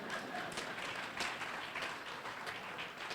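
An audience at the Jamaica Dental Association's 60th anniversary claps steadily, a dense even patter of many hands that stays moderately loud and somewhat distant throughout.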